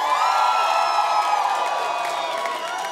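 A room full of people cheers and whoops on cue at a dating talk, a loud, sustained wash of shouting voices with high whoops rising above the crowd noise.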